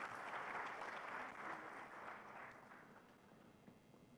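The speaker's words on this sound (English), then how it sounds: "please give him a big round of applause" An audience at an anniversary celebration of an incubation hub applauds a visiting scientist before his talk, with steady, fairly distant clapping that fades slightly over about four seconds.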